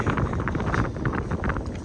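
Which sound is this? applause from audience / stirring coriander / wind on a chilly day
wind on a chilly day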